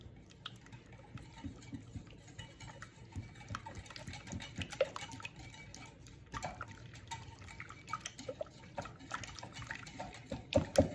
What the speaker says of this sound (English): I'll use this whisk. And then you just whisk just like so.